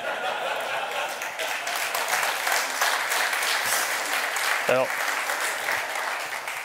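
A conference crowd at a talk on phishing applauds continuously, a thick, even wash of clapping throughout, while someone briefly speaks over it near the end.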